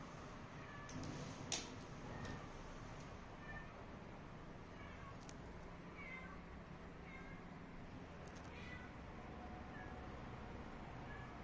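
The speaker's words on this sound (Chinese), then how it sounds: "有小猫在叫。" A kitten meows softly several times at spaced intervals, the thin, faint cries rising over a steady low indoor background.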